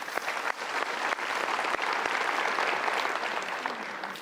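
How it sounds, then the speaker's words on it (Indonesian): Audience applause at a motivational seminar, a dense, steady wash of clapping that stays loud and even throughout without voices. "kita berikan tepuk tangan dulu"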